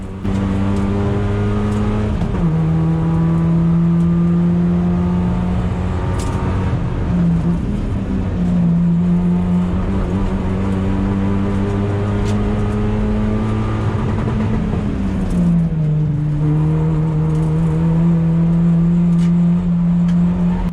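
A small Toyota Yaris race car chases a Mazda MX-5 around a circuit. Its engine drones loud and close from inside the car, with pitch climbing through each gear and dropping at shifts as the revs rise and fall.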